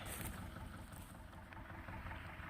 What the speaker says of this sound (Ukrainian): Тут в цьому місці трактором зараз їх буду витягувати.